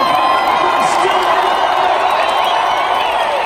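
Arizona Supercross crowd at the Glendale stadium cheering and shouting in a steady, loud roar that fills the whole stretch without a break, with scattered whoops and clapping inside the din.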